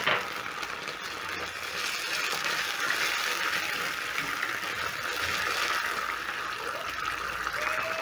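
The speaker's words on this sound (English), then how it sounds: "And then I'm going to add in a splash of water." Water poured into a cooking pan of onions with ketchup, a steady hissing pour and sizzle that runs for several seconds, close and fairly loud, with no talk.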